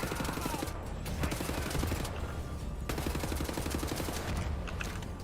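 Constant gunfire from the video game Wolfenstein: The New Order: dense, overlapping bursts and rapid shots in a loud, unbroken barrage with heavy low rumble throughout.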